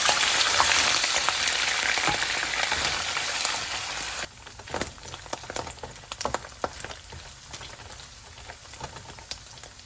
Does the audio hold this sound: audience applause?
no